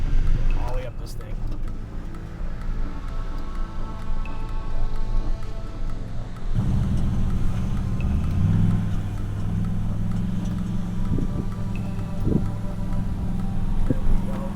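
A Toyota Tundra TRD Pro crawls up a steep hill in first gear, its engine a steady loud low drone with a rising tone near the end, mixed with wind and vehicle rumble, and occasional short knocks.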